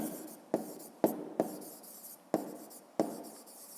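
Pen strokes on paper while working a fifth-grade math exercise, about five sharp taps and scratches at irregular intervals, close and fairly quiet, with no talking.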